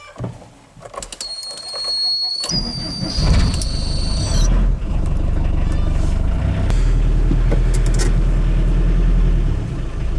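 A VW T3 van engine starts up and settles into a steady, rumbling idle that holds close and loud to the end, preceded by a brief high-pitched whine.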